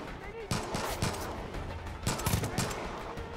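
Bursts of rapid automatic gunfire in the video game Far Cry 5, dense rattling volleys in quick succession with a few heavier cracks, close and loud over game ambience.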